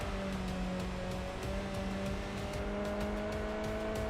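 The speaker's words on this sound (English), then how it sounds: "The car sounds really good once it's been nearly fully upgraded. It's got that nice, more throaty inline four sound." An upgraded inline-four race car engine in Enthusia Professional Racing drones with a steady, throaty note that climbs slowly in pitch as it holds high revs, loud and continuous with no talking.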